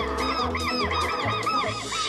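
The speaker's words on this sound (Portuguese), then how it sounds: "Os quero-queros dão o alerta quando alguém se aproxima." Southern lapwings (quero-quero) give repeated, harsh, strident alarm calls in the Pantanal wetlands, loud and close, several overlapping cries with no voices.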